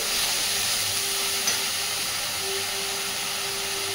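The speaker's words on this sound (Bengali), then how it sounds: "এইবার মশলাটাকে খুব সুন্দর করে একটু সময় নিয়ে কষাতে হবে" Spice paste (masala) fries in a pan over a low-to-medium gas flame for a Bengali fish curry, giving a steady, close, loud sizzle and hiss that runs unbroken throughout.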